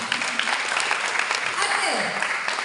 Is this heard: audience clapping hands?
yes